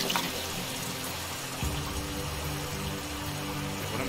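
Water running into a bucket in a gold-rush game: a steady close hiss of pouring water that deepens slightly partway through as it fills, with no speech.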